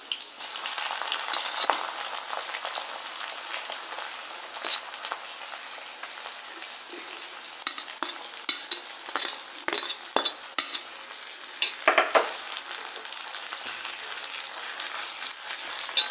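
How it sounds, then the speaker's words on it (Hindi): Onion and green chilies fry in a pan of oil for a home-cooked sabzi, a steady crackling sizzle with repeated scrapes and clinks of a stirring spoon against the pan. "जब हरी मिर्च जैसी तड़क जाएंगी तो इसमें जो है हम प्याज डालेंगे।"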